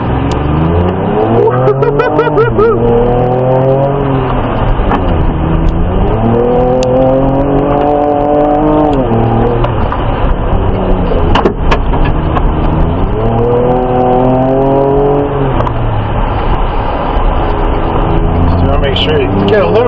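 A Ford Ranger Raptor pickup tears through off-road hot demo laps, its engine loud and close, revving up and down in repeated surging sweeps with steady road rumble underneath.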